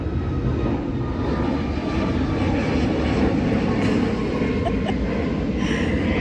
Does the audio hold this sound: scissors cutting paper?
no